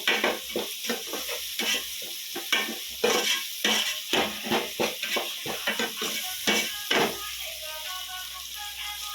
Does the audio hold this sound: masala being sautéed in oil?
yes